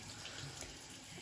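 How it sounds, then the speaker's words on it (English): Hands are rinsed under a running faucet, a faint steady splash and trickle of tap water over a bathroom sink, brief and continuous. "So I'm just gonna rinse my hands a little bit"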